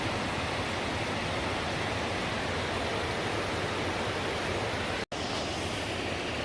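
Water pours over a dam spillway in the Ozarks as a loud, steady, even roar of rushing water that holds constant throughout, apart from one sharp momentary cut.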